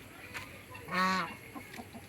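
A single goose honk rings out near and clear for about a quarter second amid soft farmyard background sounds.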